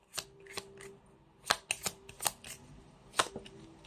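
A deck of reading cards being shuffled up close, with a series of crisp riffling bursts spaced irregularly across the stretch, quiet in between.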